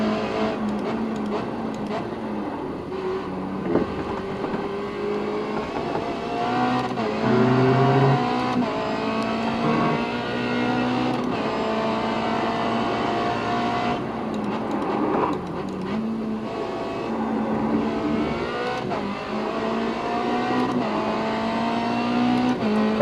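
Race car driven in the iRacing simulator, engine revving up and down through gear changes with a continuous buzzing drone and repeated rising pitch sweeps, steady and moderately loud, no speech.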